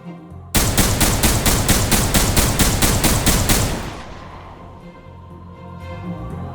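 The M6L pistol from the video game Halo Infinite fires about a dozen crisp shots in quick, evenly spaced succession. They are loud and close, then give way to a fading echo and quiet ambience.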